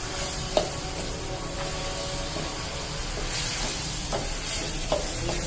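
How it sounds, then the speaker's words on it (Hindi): Keema being mixed with red chillies in a pan for khara masala keema karahi, with a soft steady sizzle under occasional spatula scrapes and taps, close and moderate. "चलिए आप इसको मिक्स कर लेते हैं"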